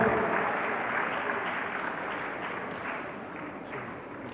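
A hall audience at a university pharmacy oath-taking and induction ceremony gives a round of applause, a dense steady clapping wash that slowly fades over several seconds, slightly muffled and dull.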